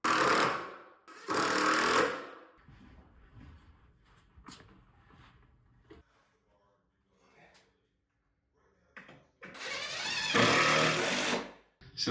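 Electric sander working on wood patched with glue and sawdust filler, run without a dust extractor, loud bursts at the start and again near the end, with quieter handling noises in between.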